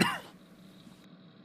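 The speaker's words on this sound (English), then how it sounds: "You've been coughing a lot since today" A single short cough bursts out at the start, close and fairly loud, then fades into quiet room noise.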